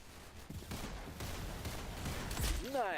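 Rapid gunfire in the Roblox shooter Arsenal, a continuous fusillade of shots with game effects, a voice briefly audible near the end.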